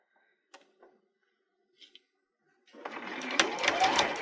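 After a few faint clicks and taps, a sewing machine starts running steadily on fabric, close and moderately loud, for the last second and a half.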